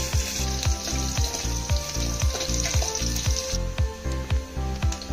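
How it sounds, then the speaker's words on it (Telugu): Green chilies and onions frying in a pan sizzle steadily and close up, with a regular rhythm of spoon strokes scraping and stirring through the hot oil. "ఇది కొంచెం బ్రౌన్ అండ్ కలర్ వచ్చేదాక వేయించుకోవాలి."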